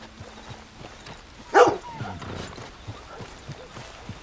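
A dog in the Red Dead Redemption 2 video game gives a short bark-like burst, with horse hoof clops and faint whinny-like sounds around it over a quiet game ambience.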